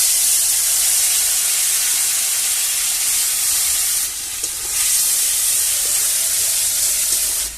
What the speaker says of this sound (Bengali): এর মধ্যে আমি দিয়ে দিচ্ছি অল্প একটু ধনে জিরে বাটা।